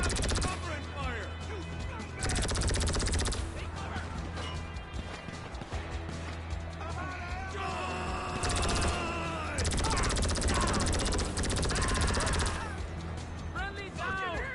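Gunfire in the video game GTA sounds as repeated loud shot bursts and rattling volleys mixed with crashes, under shouting game character voices and a busy background.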